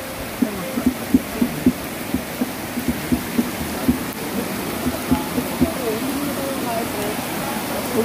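Steady outdoor rain hisses continuously while people bathe outside at a birthday gathering, with soft regular thumps and splashes recurring through the wash of falling water.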